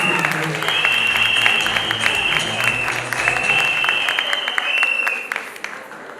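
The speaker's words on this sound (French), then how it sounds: "On peut l'applaudir très très fort." An audience applauds a beauty pageant contestant at a Miss Maman Africa event, steady sustained clapping with a whistle-like tone running over it, fading out near the end.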